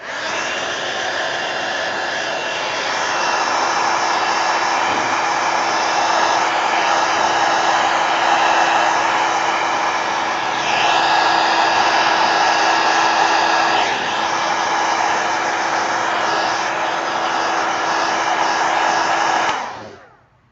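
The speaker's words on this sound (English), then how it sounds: "Hit it with the heat gun real quick." A heat gun blows steadily across a watercolor journal page, a loud, close, continuous whooshing roar with a faint whine that shifts slightly in intensity and runs for about twenty seconds before cutting off abruptly.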